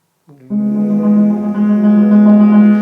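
A low piano tremolo in Liszt's style, one note rapidly repeated into a sustained rumbling roll imitating timpani, played alone and swelling slightly.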